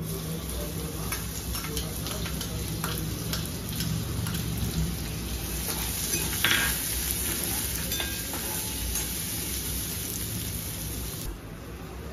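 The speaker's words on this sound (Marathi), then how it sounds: "आता ह्याच्यामध्ये आपण हा चिरलेला कांदा टाकणार आहोत।" Chopped onion fries in hot oil for a Maharashtrian cauliflower-potato bhaji, a dense, continuous crackling sizzle like light rain, fairly close and steady throughout with a few sharper pops.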